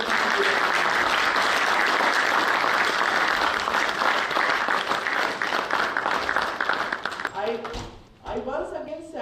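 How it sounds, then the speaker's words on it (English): Loud, sustained applause from an audience at the AGROVON 2023 event, honouring the PGTABM students; dense clapping fills the first eight seconds, then dies away as cheering voices rise near the end. "A big round of applause for the PGTABM."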